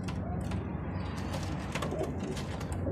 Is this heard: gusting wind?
no